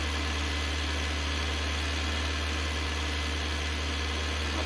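A tractor mowing grass on damp ground at a 1961 farm runs with a constant, low engine drone and a steady rumble, unbroken and fairly close throughout.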